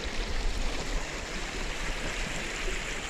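Floodwater rushes hard and steadily in a strong, unbroken torrent at a flooded spot in front of a housing estate, loud and close, with no voices.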